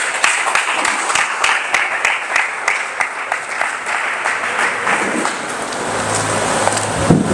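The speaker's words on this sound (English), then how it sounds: "A round of applause for him, please." Audience applause at a poultry farming lecture greeting the speaker of the welcome address, close rhythmic clapping from the crowd that blends into a denser, softer patter and fades near the end.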